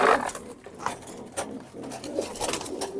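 White Kuwaiti pigeons coo in a loft, low soft calls repeating at close range with light rustling and patter around them; no voices.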